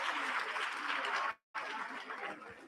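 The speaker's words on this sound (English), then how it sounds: "Let's give ourselves a round of applause" An audience at a justice, crime prevention and security community meeting in Athlone, Cape Town gives a sustained round of applause, a dense even clatter of clapping broken by a brief abrupt silence before it resumes.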